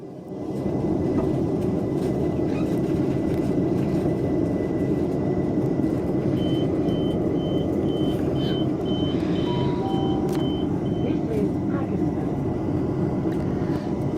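The door-closing alarm on a London Overground train plays as a repeated series of short beeps over the loud, steady rumble of the carriage interior on the run toward Haggerston.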